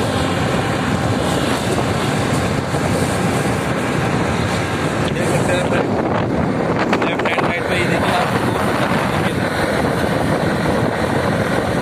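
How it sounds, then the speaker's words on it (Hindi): Strong wind blows beside a road on the NH91 Etah–Delhi expressway near Aligarh, a loud continuous roar buffeting the microphone throughout. "काफ़ी हवा चल रही है यहाँ पर।"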